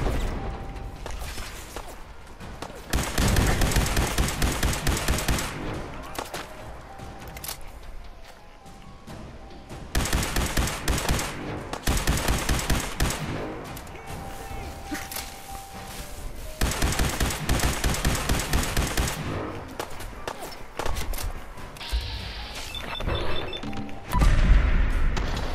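Loud bursts of automatic weapon fire from a modded gun in Fallout 4, rapid rattling volleys repeated in several long stretches with brief pauses between, close and dominant, ending in heavy thumps.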